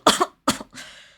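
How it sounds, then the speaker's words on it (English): A coughing fit in the visual novel Cupid Parasite: two sharp, close coughs, then a rougher, trailing throat-clearing cough that fades out. "I pulled up the latest one and started having a coughing fit"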